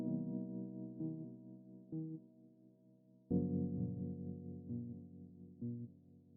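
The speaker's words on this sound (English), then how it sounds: "So it has like this like pulsating kind of sound." Tremolo-laden Purity piano repeats a major seventh chord with a steady pulsating throb, with new voicings struck about every second and sustained in between.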